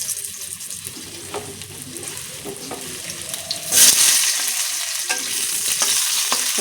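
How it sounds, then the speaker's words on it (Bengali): Potatoes fry and get stirred in hot oil left over from frying fish, giving a steady close sizzle with scraping stirs and a brief louder hiss midway, and no talking. "ভাজা তেলে এখন আমি আলুগুলো ভাজা করে নেব, সুন্দর করে লাল লাল করে আলুগুলো ভাজা করে নেব।"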